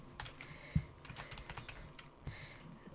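Soft clicks of a computer keyboard being pressed, one slightly sharper key tap standing out among faint scattered keystrokes, quiet and close with no talk.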